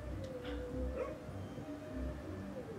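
A dog in the Overcooked video game gives a few short yips and barks over a low looping game soundtrack, fairly faint and brief.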